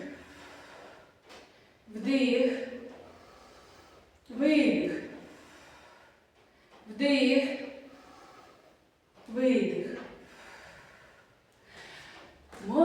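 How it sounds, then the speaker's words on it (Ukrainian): Children doing a breathing exercise during an autumn health-walk physical education class, five slow, evenly spaced audible breaths alternating with quiet gaps. "видихаємо. Вдих. Видих. Вдих."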